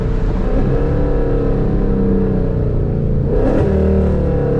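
Car with a custom Comp cam and headers downshifting loudly and close by. A deep, throaty engine drone rises and falls, and one sharper rev surge comes near the end.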